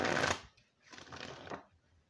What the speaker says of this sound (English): All right, one more good shuffle, please.